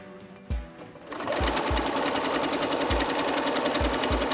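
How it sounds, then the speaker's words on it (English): Sewing machine top stitching a side seam on a fabric wall organizer, starting softly, then loud, rapid continuous stitching close by, with dull thumps scattered underneath. "Just kind of doing this top stitch on this side seam here."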